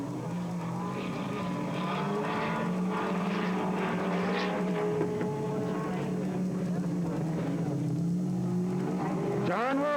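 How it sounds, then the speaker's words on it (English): Fuel-injected 360 sprint cars burning methanol race around a speedway in a pack, their engines roaring loud and continuous with revving pitch changes while an announcer talks over them. "All these cars are fuel injected, burning methane alcohol."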